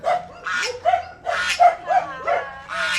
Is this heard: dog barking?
yes